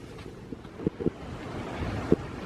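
Waves and wind at a Yorkshire beach in the morning, a continuous low rushing roar of surf and gusting wind buffeting the microphone, with a few soft thumps of wind noise and no talking.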